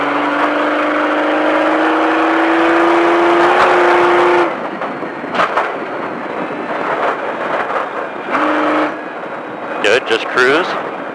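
Off-road stadium truck at Speed Vegas, engine rising steadily in pitch under throttle for about four seconds, then cutting off and blipping in short bursts as power comes back on, loud and close with a coach talking over it.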